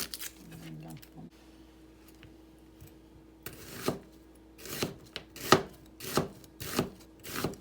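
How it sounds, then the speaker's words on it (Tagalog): Onion, carrot and other vegetables chopped on a board for a Japanese-style potato salad, a run of sharp, evenly spaced knife strokes after a quieter opening with a brief voice. "Maghihiwa ako ng ibang gulay. 1/4 lang po yung sibuyas."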